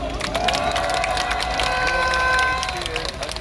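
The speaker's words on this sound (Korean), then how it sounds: "자, 큰 박수로 환영해 주십시오." A crowd at an outdoor candlelight protest rally applauds and cheers a veteran of the May 18 Gwangju democratic movement, with steady dense clapping and voices carrying throughout.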